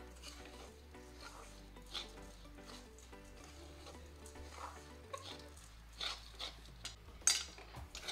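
Sugar for sesame papad being stirred continuously in a pan as it melts: quiet, sparse scraping and soft sizzle with occasional louder metal clinks toward the end, close and faint.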